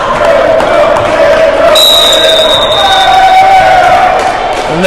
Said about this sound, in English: And there's his cheer from his teammates as he gets acknowledged for that great play.